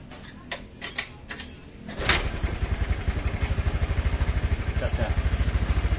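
A motorcycle engine catches on the first try after a few clicks and light handling sounds, then settles into a steady, close, rhythmic idle that throbs evenly to the end.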